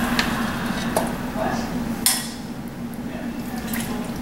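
Beef stew with potatoes and carrots being served from the pot, soft scraping and clinks of a utensil against the pot with wet sloshing, one sharper clank midway, over a steady background hum.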